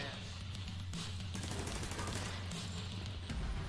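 An automated turret in a video game fires at enemies, a steady rattle of rapid shots with some louder bursts, mixed under game noise and a voice talking.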